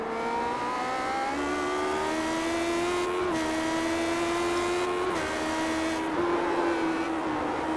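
Classic Lotus Grand Prix cars in iRacing at Watkins Glen roar past one after another, high engine notes rising and dropping through repeated loud passes with no talk.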